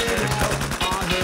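An infantry gun fires a rapid, loud burst of repeated shots in a military video game, dense and continuous over a short stretch.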